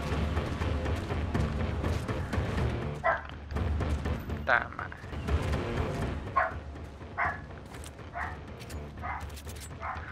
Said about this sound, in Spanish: Perros ladrando.